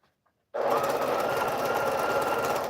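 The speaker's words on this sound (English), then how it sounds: "I'm actually only going to sew 3 of these together." A sewing machine stitching quilt pieces together starts abruptly after a brief quiet and runs at a fast, even, close mechanical whir until it stops.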